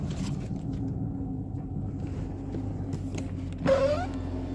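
A caravan of cars rolls past with a continuous low road rumble, and a brief rising squeal cuts in near the end as the vehicles go by.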